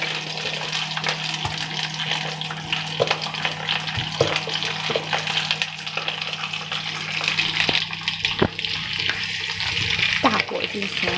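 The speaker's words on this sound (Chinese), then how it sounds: "我们先把香菇倒在里面炒一炒，同时加进去油菜的茎。" Shiitake mushrooms and rapeseed stems stir-fry over high heat, a constant bright sizzle broken by repeated clacks and scrapes of the spatula against the wok, loud and close.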